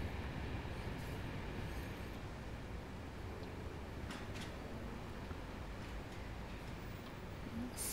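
Vossloh G6 diesel freight locomotive braking on a downhill grade in Train Sim World 4, a steady low rumble of rolling wagons with faint metallic ticks, constant and close throughout.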